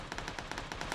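A rapid burst of automatic gunfire in the battle-royale video game PUBG, roughly nine sharp, evenly spaced shots within a second, loud and close with no talk over it.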